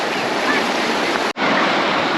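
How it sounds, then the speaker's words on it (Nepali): The Ratuwa river, where children are swimming, gives a loud, constant rush of flowing water close by, broken by one brief dropout midway. "यो चाहिँ रतवा खोला है,"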